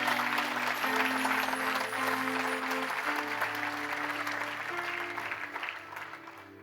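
A church congregation applauds during a French-language Easter sermon, a dense, sustained clapping from many hands that stays loud, then slowly thins toward the end, with sustained organ or keyboard notes underneath.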